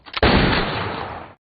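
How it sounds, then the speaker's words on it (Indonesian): A single loud gunshot from a pistol duel at ten paces in an action film, a sharp blast with a short decaying tail, heard alone. "Saat tembakan ketiga, terlihat hanya Kain yang menembak sedangkan John tak sempat melakukan tembakan"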